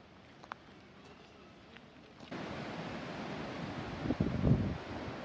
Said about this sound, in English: this is probably the Fraser River, and you can hear it, the stream and everything